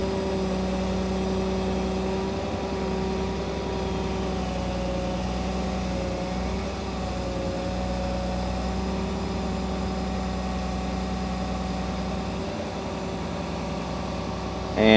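A large, new John Deere excavator engine runs at a smooth, steady idle for the whole stretch, a constant low rumble with a faint tonal hum and no talking.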